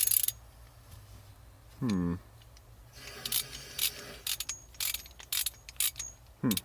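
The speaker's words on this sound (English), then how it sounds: "You get to use this awesome socket to get the element off." A large socket on a ratchet wrench loosens a water heater element during rental maintenance, giving a few bursts of quick mechanical clicking with scattered clanks and short gaps, close by and moderately loud.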